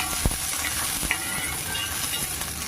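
Mustard seeds crackle and pop in hot oil, scattered sharp pops and ticks over a steady sizzle, close by.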